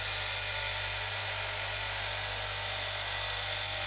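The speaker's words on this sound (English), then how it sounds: "They're good, these air hammers." An air hammer chisels through welds on a Mercedes 410D leaf spring bracket, a sustained, loud, high-pitched pneumatic buzz that runs unbroken and close throughout.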